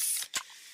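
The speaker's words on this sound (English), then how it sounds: "that's the sound of a freshly opened fizz-filled Pepsi" A freshly opened can of fizzy Pepsi gives a close, bright hiss of escaping carbonation, then one short sharp burst before the sound settles into a faint fizz.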